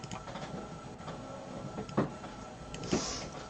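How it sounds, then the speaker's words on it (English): A printer running nearby, a steady mechanical whir with a couple of louder clunks as the carriage moves, no talk over it. "Oh, that's just the printer going off"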